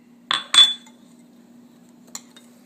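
A spoon clinks twice against a bowl while chili garlic sauce and fresh garlic are mixed, followed by a faint later tick, close and brief with quiet between.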